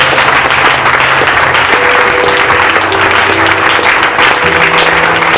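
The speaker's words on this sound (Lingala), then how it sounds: "Je disais si quelqu'un peut acclamer pour la gloire de Dieu." Worshippers clap together for the glory of God, sustained loud applause from a large crowd that holds an even, continuous roar from start to finish, with faint tones underneath.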